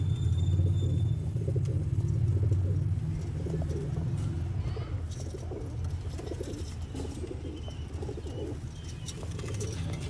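Black-faced Sialkoti Sheikh pigeons coo in low, repeated throaty bursts close by, with soft chirps and faint background rumble around them.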